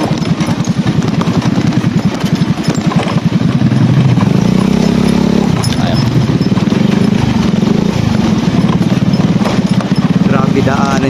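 Motorcycle riding over a rough, potholed dirt trail, its engine chugging and rattling steadily up close throughout, with bumps and jolts from the uneven ground.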